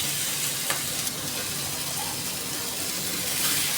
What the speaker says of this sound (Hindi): शिमला मिर्च डाल के थोड़ा सा भून लें